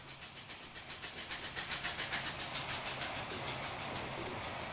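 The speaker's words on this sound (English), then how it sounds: "This is my favourite class of, class of steam locomotive on the face of the planet." A steam locomotive pulling streamlined passenger cars in the Transport Fever game gives a rhythmic chuffing that builds and then settles, with a steady hiss of steam over it, moderately quiet and without talk.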